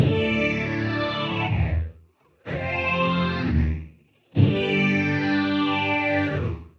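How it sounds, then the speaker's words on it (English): Three sustained, lush phased string synth chords from a BOSS SY-200 with a sweeping, swirling phased texture, each held for a couple of seconds and separated by brief silences; dry, with no echo. "now this is my phased string patch that you heard a moment ago"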